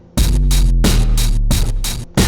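Hi-hats run through a grimy distortion effect in Akai MPC software ring out as harsh, buzzing bursts of static in a steady repeating pattern, each hit loud and gritty over a droning low hum.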